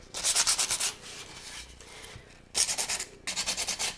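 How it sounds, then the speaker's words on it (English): Sandpaper rubs the edges of a freshly painted piece in quick back-and-forth bursts, each a run of rhythmic scratchy strokes, close and clear with brief pauses between. "you're just going to sand on the edges where you think it would naturally get some wear"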